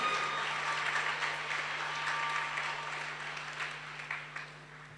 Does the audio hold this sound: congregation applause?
yes